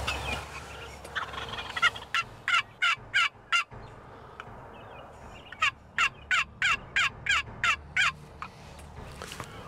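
Wild turkey gobbles ring out in two rapid bursts of repeated calls across a field, moderately distant, with quiet outdoor background between them.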